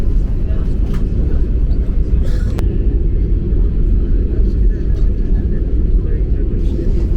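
A Lufthansa Airbus A340 taxis fast toward its parking stand at Blagnac, heard from inside as a steady, loud low engine rumble with a few faint clicks and thumps.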